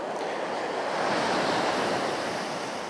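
Steady roar of sea waves breaking on a beach, continuous broadband wash with some wind buffeting the microphone, no voices.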